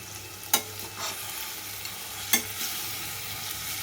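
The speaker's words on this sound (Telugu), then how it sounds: "దీన్ని బాగా కలపాలి." Wood apple rice (pulihora) being stirred and mixed by hand, with two sharp scraping clinks of the utensil against the pot amid soft continuous rustling, close and fairly quiet, no talking.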